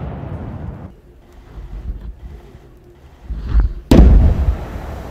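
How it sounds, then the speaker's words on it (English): Loud explosions at a military training ground: a deep booming blast near the start, then a second, sharper and heavier detonation that rumbles on with wind buffeting the microphone. "These are real explosions."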